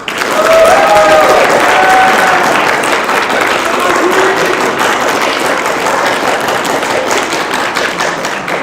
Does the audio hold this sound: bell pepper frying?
no